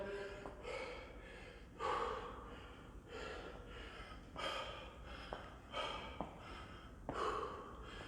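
Heavy gasping breaths after burpees in a strength and conditioning workout, close and rhythmic, with sharp inhales about every second and a half and puffing exhales between, no talk.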